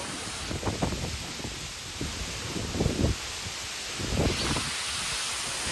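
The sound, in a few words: strong wind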